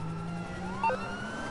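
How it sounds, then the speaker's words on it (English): A faint electronic police car siren in a GTA video game wails in the background among low engine hum, with a brief higher chirp partway through. "I don't even know how to turn my sirens off"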